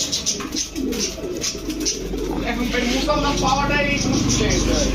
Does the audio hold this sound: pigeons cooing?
yes